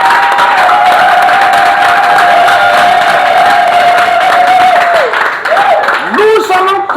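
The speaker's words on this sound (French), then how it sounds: "acclamons" A church congregation at a Sunday service cheering and acclaiming, a loud, sustained wall of crowd shouting and whooping that fills the space, with a voice carrying a long held note over it and the cheering wavering near the end.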